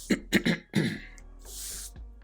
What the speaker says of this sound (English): So sorry if I'm coughing and spluttering